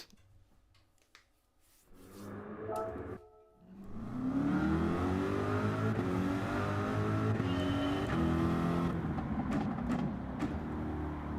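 Corvette race car in Gran Turismo 7, a short engine blip and rev, then a loud sustained high-revving roar building as it accelerates through the gears, near and dominant without speech.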